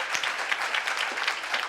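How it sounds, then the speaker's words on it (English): A short burst of lively audience applause at a research symposium, with many hands clapping densely and steadily throughout. "That is a big applause."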